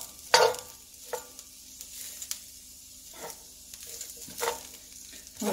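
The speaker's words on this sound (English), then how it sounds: "I'm going to chuck in all the onion, and I'm going to just stir it around" Chopped onion sizzles in a hot pot while being stirred for a baked bean stew, soft frying hiss broken by several scraping stir strokes, fairly quiet and without talk.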